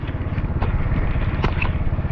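A motorcycle passing by on the Brgy. Balud embankment, heard as a close, loud engine drone that holds steady for about two seconds, with some clatter and crackle over it.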